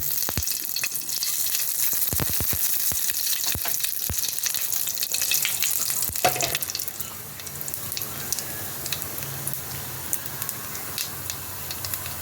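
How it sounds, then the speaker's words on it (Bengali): Whole dried chili, a bay leaf and nigella seeds crackle and sizzle in a little hot oil in a kadai, a dense close hiss with sharp pops that fades to a quieter, sparser spitting partway through. "এখন দেবো একটা গোটা লঙ্কা, দেবো একটা তেজপাতা, আর দেবো এটা কালো জিরে দেবো ফোড়নে"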